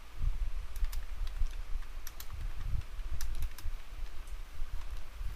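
Rapid, irregular clicking of fingers typing text on a computer keyboard, the keystrokes close and distinct with short pauses between bursts, no voices.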